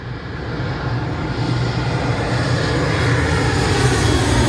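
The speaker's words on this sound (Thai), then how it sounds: "เครื่องบินกำลังลงดอนเมืองนะครับ" An airplane comes in to land at Don Mueang airport, its loud, steady engine roar filling the air and swelling slightly as it passes close overhead, with no talking.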